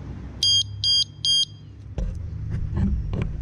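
A motorcycle disc brake alarm gives three loud, evenly spaced high-pitched beeps at close range. Quieter rustling and handling knocks from the bike follow.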